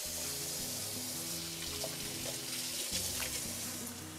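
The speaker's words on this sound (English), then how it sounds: "I'm gonna wash my hands here real quick." Tap water runs steadily into a kitchen sink as hands are washed, a faint continuous splash with a low hum beneath it, while meat cooks on medium heat nearby.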